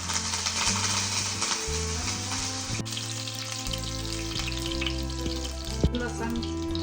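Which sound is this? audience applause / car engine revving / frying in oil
frying in oil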